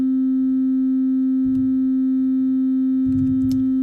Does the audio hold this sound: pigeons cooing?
no